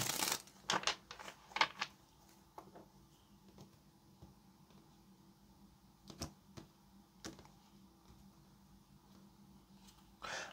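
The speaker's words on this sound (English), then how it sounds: "Let's get one more shuffle." Tarot cards being shuffled by hand in quiet bursts of crisp riffling and soft taps, with pauses in between, close and fairly faint.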